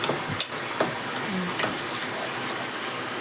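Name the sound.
water added to vegetables while cooking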